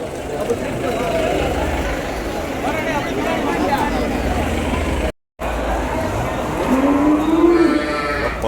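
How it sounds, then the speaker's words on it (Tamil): Cattle moo at the busy Vaniyambadi cattle market, one drawn-out low call rising near the end over a steady bed of crowd chatter and general market bustle. "இன்னைக்கு அளவு கடந்த மாடுங்க வாணியம்படியில் மட்டும்"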